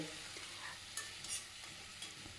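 Fried small fish being stirred into dry-fried vegetables in a pan for a Bengali chorchori, with a spatula scraping and clinking in a few distinct strokes over a faint steady sizzle.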